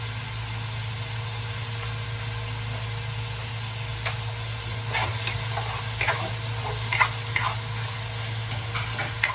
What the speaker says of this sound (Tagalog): Ito nga pala yung akin niluluto, picadillo.